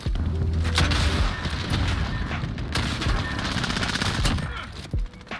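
Fire shotgun blasting in a Call of Duty–style Search and Destroy match, a dense, loud run of booming gunfire and rapid shots with explosive bursts, nearly continuous for several seconds.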